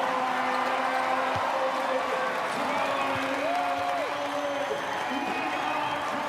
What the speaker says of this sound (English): The crowd up and about. Electric atmosphere.